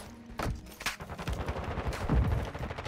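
Rapid gunfire bursts in a ranked PC shooter match, several loud volleys and automatic fire layered close together over continuous game noise, with no voices.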